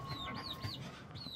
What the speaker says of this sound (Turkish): Şu da anne keklik.